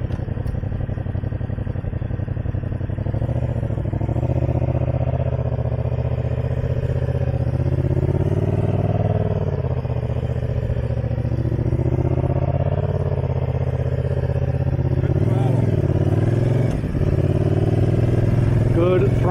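A training motorcycle rides steadily with a continuous close engine drone and shifting revs, rising throttle swells near the end, while a person talks over it.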